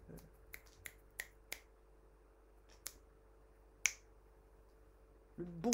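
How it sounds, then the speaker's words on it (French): Finger snapping, a series of sharp, isolated snaps at irregular intervals, fairly quiet and close in an otherwise quiet room, with a brief louder rustle at the end. "Le bon claquement de doigts."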